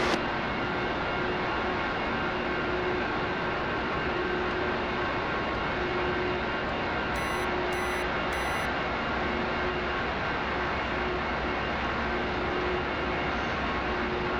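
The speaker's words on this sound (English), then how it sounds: "There's somebody else starting up their F4." An F-4E jet engine spools up in the DCS flight simulator, a steady, loud, droning whine that holds unbroken from start to finish with no voices.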